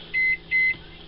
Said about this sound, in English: we're going to put these in the microwave to thaw them out